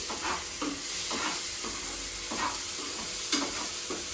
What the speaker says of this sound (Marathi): ते थोडंसं तेलावरती छान असं फ्राय होईल